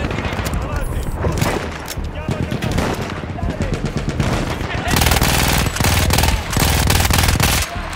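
A gun in Battlefield 1 fires rapid, continuous bursts, close and loud, as heavy automatic fire that gets denser toward the end, with a player's voice talking underneath.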